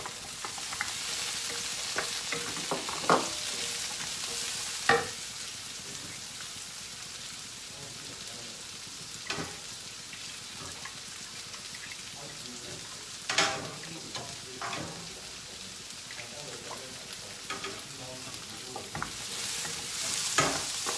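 Carrots sizzle steadily in a hot pan for fried curry udon, a continuous close frying hiss broken by occasional clinks and stirring scrapes, with no talking.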